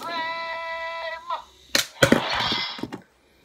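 A plastic Ninja Turtle toy lands on a phone camera, first a sustained toy tone, then sharp plastic clatter and knocks, close and loud, followed by a brief rattling scrape.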